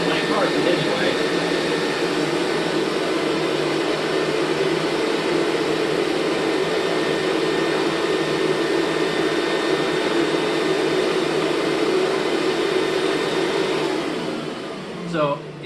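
A Rainbow E2 Black vacuum cleaner with power nozzle runs on carpet, a steady loud motor whine with agitator hum that continues under a person talking, then briefly winds down near the end.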